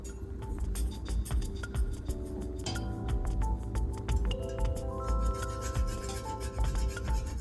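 Whole nutmeg rasped against a grater over a cream sauce, a steady run of soft scraping strokes mixed with light clinks and ticks, close and fairly quiet, with no talking.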